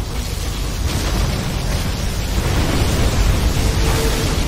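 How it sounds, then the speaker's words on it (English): Particle cannon super weapon blast in the Command and Conquer Generals video game: a sustained, loud, broadband roaring rumble with heavy low end that holds steady for several seconds. "Particle cannon ready."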